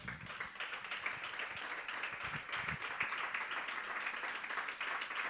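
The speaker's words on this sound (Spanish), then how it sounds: "Dale un aplauso al Señor." A church congregation claps in praise after a Sunday sermon, a steady, dense wash of many hands sustained throughout at moderate level, with faint voices mixed in.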